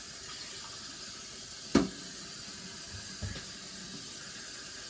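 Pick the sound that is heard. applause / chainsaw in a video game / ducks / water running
water running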